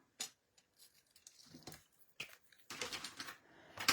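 A length of ribbon is snipped with scissors at a craft table, making faint, close clicks and a few crisp cutting snips, ending in a denser rustle of handling.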